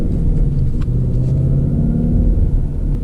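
A 2024 Ford Mustang GT base with a six-speed manual gives a steady, loud, low engine rumble throughout while driving, with no talking.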